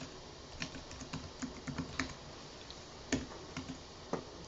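Quiet, close typing on a computer keyboard in short irregular bursts of light clicks and taps, with a few sharper keystrokes standing out and no talk.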